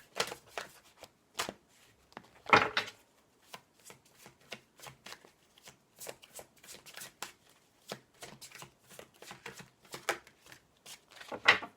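Tarot or oracle cards handled and drawn from a deck, giving a string of soft, irregular papery flicks and rustles with a couple of louder riffles near the start and end, close and quiet, with no voices.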